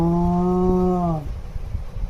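A voice imitates a cow with a single drawn-out, tonal moo lasting about a second, followed by quiet rustling.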